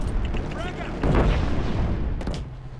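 Gunfire from a multiplayer team deathmatch in the shooter game Killzone Shadow Fall, a burst of loud booming shots and rattling fire up close, with game sounds continuing underneath.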